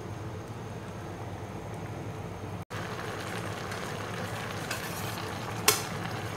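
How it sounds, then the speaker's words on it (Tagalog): Bitter melon going into a simmering dinengdeng vegetable stew, a steady soft bubbling sizzle with a brief dropout, a light clatter near the end and a sharp clink just after, no voices. "Sunod na rin natin yung palaya. Sabay na maluluto yan."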